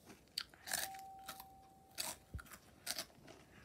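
Flaming Hot Cheetos being bitten and chewed close to the mic, a handful of sharp, separate crunches spread over a few seconds in a quiet room.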